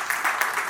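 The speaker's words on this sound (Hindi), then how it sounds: "तालियां रुकनी नहीं चाहिए" An audience applauds at a Jain religious ceremony, a Siddhachakra Mahamandal Vidhan, with a brief burst of steady, dense clapping.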